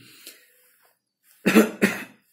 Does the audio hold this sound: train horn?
no